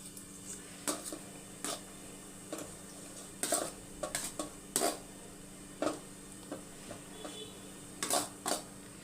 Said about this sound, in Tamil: இந்த பக்கம் வந்து புளி சாதத்தை மிக்ஸ் பண்ணிக்கலாம்